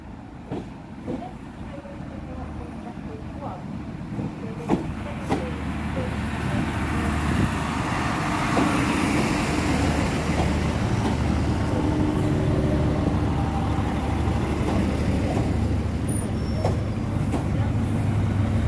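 Train 3005, a service terminating from Larne Harbour, rolls into Great Victoria Street station with a steady low rumble and engine drone that builds and holds, with faint platform noise and brief speech around it.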